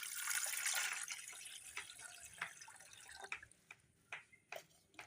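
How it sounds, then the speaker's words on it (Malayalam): Water poured into a cooking pot holding carrot and potato, a close hissing pour at the start that tapers into a few separate drips and splashes, with no talk. "നമുക്ക് വെള്ളം വെക്കാം കേട്ടോ. വെള്ളം ഒഴിച്ചു കൊടുക്കാം അതിലേക്ക് ഫസ്റ്റ്."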